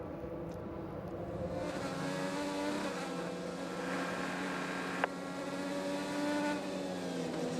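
IndyCar race cars droning through a 2016 Detroit street race as the number 5 car slams into the wall, a single sharp impact cutting through the steady engine roar midway.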